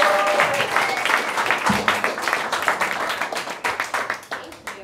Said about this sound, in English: So give a big round of applause for Katie Pengra.